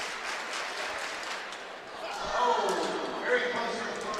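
Track meet crowd at the U Sports Track & Field Championships starting a rhythmic clap, building from a low murmur into louder unified beats, heard under a commentator's voice.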